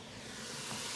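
Finely chopped garlic sizzling in a hot pan, a steady close hiss and crackle of frying that holds evenly for about a second, quiet and with no voice over it.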